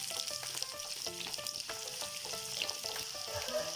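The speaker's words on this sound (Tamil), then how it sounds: "வெங்காயம் நல்லா வதங்கிடுச்சு" Onion and garlic fry in a pan with dried chillies and curry leaves for a South Indian rajma kara kulambu. The oil gives a steady, faint, even sizzle with no talking.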